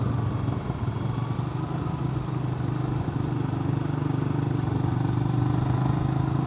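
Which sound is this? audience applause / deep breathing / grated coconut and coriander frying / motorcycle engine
motorcycle engine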